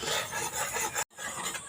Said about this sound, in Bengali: এইভাবে অনবরত নাড়তে থাকবো, আর এইভাবে নাড়তে নাড়তে ক্ষীর তৈরি করে নেব।